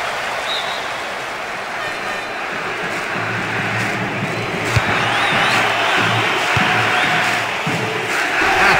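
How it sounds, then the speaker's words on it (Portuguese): A virtual stadium crowd in Winning Eleven 10 on PS2, at a Liga Paulista match between Oeste and Ferroviária, roars continuously and loudly, swelling steadily with a low droning undertone and a few sharp accents. "A torcida vai à loucura."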